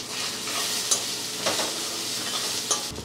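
Green chillies and cashews sauté in a pan, a steady close sizzle with a few spatula scrapes and clinks, ending abruptly, with no talk.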